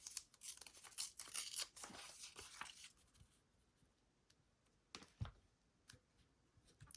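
Paper ripped by hand for an envelope journal collage, with a few quick tearing bursts in the first three seconds, then scattered faint crinkles and one sharp rip later, no talking.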